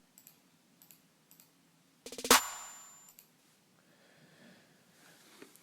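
Low drum roll notes in an LMMS-made trap beat: a quiet ticking pulse, then a sudden dense burst of rapid hits that swells and decays into a soft, faint tail.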